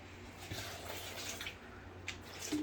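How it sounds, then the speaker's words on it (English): Water is poured into a blender in a home kitchen while jackfruit hummus is being made, a soft, steady trickle and splash heard fairly quietly and close up. "The blender, and we're gonna put a little water."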